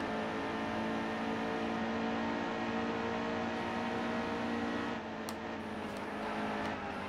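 Racing truck engine from the NASCAR Heat 2 video game at Iowa, a continuous loud whining drone with steady harmonic tone, briefly dipping and shifting near the end as the truck slides loose.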